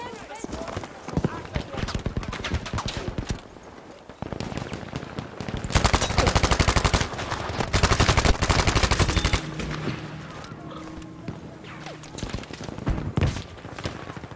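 Rapid gunfire rattles through a Battlefield 5 match, dense bursts of shots and longer loud volleys in the middle, with a voice speaking over parts of it.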